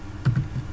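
A single Enter key press on a computer keyboard while configuring a Cisco switch in Packet Tracer, giving one or two soft, close taps with quiet room tone around them.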